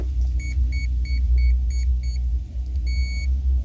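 A ProBoat SonicWake RC boat with a new ESC powers on, sending a repeating series of short, even electronic beeps followed by one longer tone over a steady low rumble.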